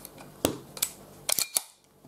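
Umarex Colt 1911 Government air pistol heard as a few sharp, close clicks and snaps in quick succession, with short quiet gaps between them.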